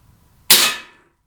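A Webley MKVI .455 CO2 pellet revolver fires a single shot in single action: one sharp, loud crack with a short hissing tail, set against near silence.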